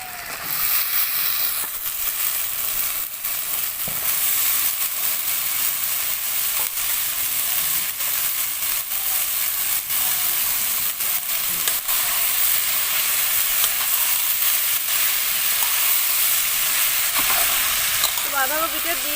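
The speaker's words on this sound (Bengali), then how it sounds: "বাঁধাকপিটা দিয়ে আমি খানিকক্ষণ নাড়াচাড়া করে নেব" Shredded cabbage sizzles steadily in hot oil with a cooked spice masala while being stirred, a continuous loud frying hiss with faint scraping throughout.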